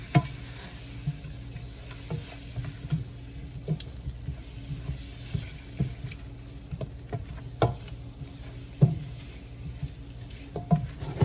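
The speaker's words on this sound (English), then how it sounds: "And let that butter melt out" Butter sizzling softly in a pan on low heat, with occasional clinks and scrapes of a utensil stirring against the pan.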